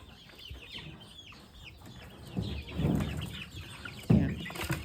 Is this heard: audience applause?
no